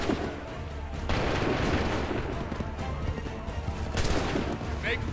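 Massed musket gunfire in Assassin's Creed III breaks out as a loud, sustained crackle of volleys, with a second surge near the end and voices shouting over the din.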